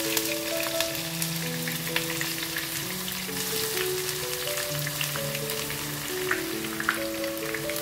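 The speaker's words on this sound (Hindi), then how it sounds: "ये प्याज के साथ ये सब चीजें फ्राई होती जाएंगी।" Onions fry with spices in hot oil as the tadka for kadhi pakora, a steady close sizzle and crackle with faint stirring scrapes, no voices over it.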